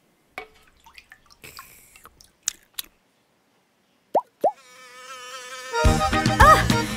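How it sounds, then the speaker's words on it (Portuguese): Cartoon fly buzzing, a thin whining drone that rises in the last seconds among scattered plops, drips and sliding cartoon effects. "Ah, e uma mosca."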